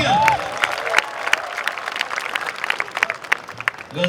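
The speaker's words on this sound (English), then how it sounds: "use your applause for Sophia." Audience at a Technovanza event at VJTI claps for Sophia, the Hanson Robotics humanoid robot, in sparse, scattered applause with distinct individual claps over about four seconds, fading toward the end.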